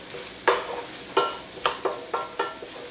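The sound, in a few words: flour roux bubbling in a pan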